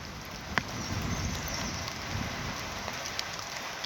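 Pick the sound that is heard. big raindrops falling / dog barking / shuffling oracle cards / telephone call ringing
big raindrops falling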